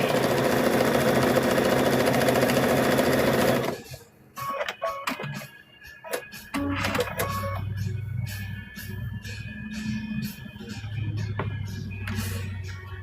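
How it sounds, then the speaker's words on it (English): A serger sewing machine runs fast and loud along quilt edges in a continuous mechanical whir, then stops, followed by intermittent ticking, clicks and shorter bursts of stitching. "you can start serging before you're binding"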